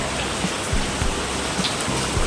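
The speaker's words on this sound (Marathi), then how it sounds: "पाऊस आलेला आहे बघा" Heavy monsoon rain pours down steadily in a hilltop Konkan village, a dense continuous hiss with a few louder drips and splashes close by.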